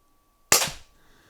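One close, loud shot from a First Strike Roscoe launcher breaks sharply out of silence, then dies away quickly into a faint tail. No talking is heard.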